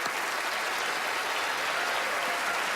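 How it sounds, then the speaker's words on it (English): A theater audience at a magic show claps in a dense, even burst of applause that fills the whole stretch without a break. "Give him a round of applause."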